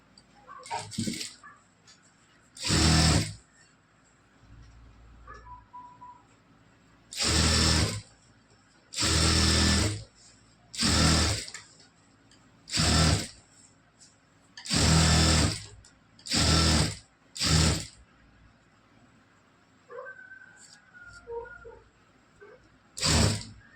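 A sewing machine stitches a blouse in repeated loud bursts of rapid mechanical whirring, about ten runs of one to two seconds each separated by short pauses, close to the listener.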